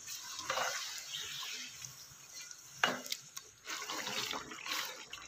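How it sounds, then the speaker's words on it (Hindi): Water pours into a pan of golden-browned frying chicken for pulao, a steady liquid rush with sizzle and stirring, fairly faint with small clinks and a few surges of pouring. "इसमें 1 कप शामिल करूँगी मैं पानी"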